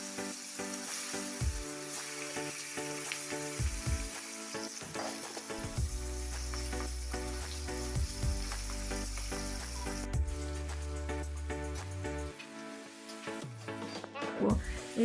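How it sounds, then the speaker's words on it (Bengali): Pieces of rohu fish frying in hot oil in a home kitchen, a continuous crackling sizzle with bursts of spattering, occasional clinks of a utensil and low background noise. "এবার তেল গরম হয়ে গেলে মাছগুলোকে ভেজে নিতে হবে"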